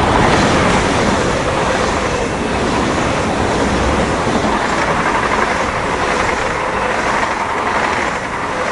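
An ICE tilting train passes at Aschaffenburg, a loud, continuous roar and rumble of wheels on rails lasting the full length, close by and without pauses.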